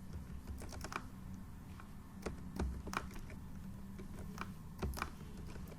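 Typing on a computer keyboard while writing a Dockerfile, with irregular clusters of sharp key clicks at close range over a low steady room hum, with no talking.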